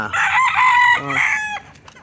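Chickens at feeding time, with grain being offered; a loud, close bird call with drawn-out tonal squawks and a short clucking burst, standing alone without talk.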